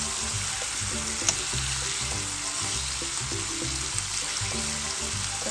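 Chicken frying in its own rendered fat for sisig, a steady close sizzle and crackle of hot oil running throughout with a few sharper pops, no talking.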